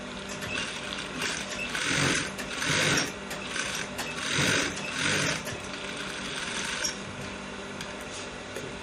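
Sewing machine stitching a curved trouser seam: a continuous fast mechanical whir with rattling needle ticks, swelling and easing in bursts, close and steady without talk.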